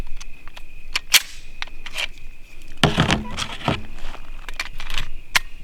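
A Walther PPQ M2 pistol with a 5-inch barrel fires .22 LR rounds outdoors: a quick series of sharp, fairly light cracks, unevenly spaced, some in close pairs.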